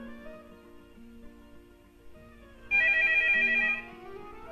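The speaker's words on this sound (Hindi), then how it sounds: "टेलीफोन मैं सुन लूं" A telephone rings once with a bright electronic ring lasting about a second, loud and close, over a faint room background on a comedy theater stage.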